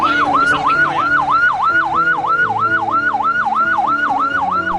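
An ambulance siren wails continuously in a steady, rapid up-and-down cycle, loud and close throughout, with a vehicle's engine hum beneath it.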